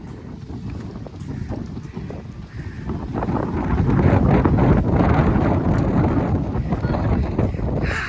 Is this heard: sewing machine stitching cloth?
no